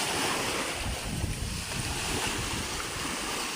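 Strong wind blows at the seaside, roaring steadily across the microphone with a low rumble of surf beneath, loud and continuous with no talking.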